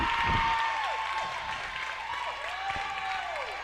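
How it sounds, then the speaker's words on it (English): Crowd at a girls prep volleyball semifinal, a steady wash of applause and cheering from spectators in a gym, with sneaker squeaks sliding across the court and a brief louder burst near the start. "the crowd just got a little noisier"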